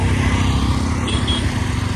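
Close, continuous engine putter of a Hero Xtreme 125R motorcycle being ridden. The low, even drone holds steady with no talk over it.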